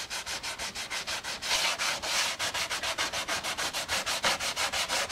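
Paintwork on a Yamaha FZR motorcycle being sanded by hand, a steady run of rhythmic back-and-forth rasping strokes, close and loud, with no talking.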